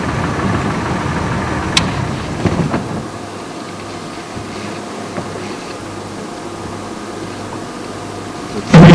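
A car engine drones low and steady from inside the cabin while driving toward a sunset, with faint road rumble and a few soft knocks and clicks.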